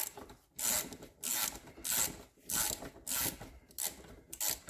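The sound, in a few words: pliers working on ATV rear swing arm shock mount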